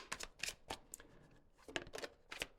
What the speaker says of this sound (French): je vais d'abord procéder à l'étalement et ensuite on retournera les cartes ensemble